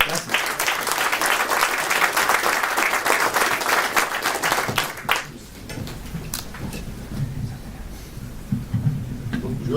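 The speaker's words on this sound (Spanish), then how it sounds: "le damos otro fuerte aplauso" An audience at a public security conference in Mexico City applauds at a ceremony, a loud dense burst of clapping that fades after about five seconds into scattered claps and quieter room noise.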